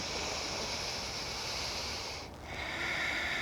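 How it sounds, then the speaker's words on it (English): Slow, deep breaths rush in and out during a gentle beginner yoga flow, steady and close. A faint hiss of air fills the background and there is a brief pause between breaths. "2 full breaths right here"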